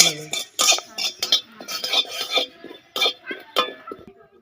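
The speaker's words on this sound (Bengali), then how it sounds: "এই যে দেখো জিরে দুনিয়া এই শুকনো খোলায় ভাজি নেবো" Whole cumin and coriander seeds rattle and scrape as a spatula stirs them around a dry pan in quick, uneven strokes, close and fairly loud.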